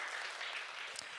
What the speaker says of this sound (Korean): 우리 한번 박수를, 격려를 드리면 좋을 것 같아요